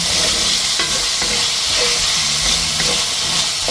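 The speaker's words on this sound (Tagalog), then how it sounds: "Ganyan mo lang haluin." Vegetables and hard carrots for apritada stirred in a hot pan at home, a loud hissing sizzle with steam and scattered scraping stir strokes, close and continuous.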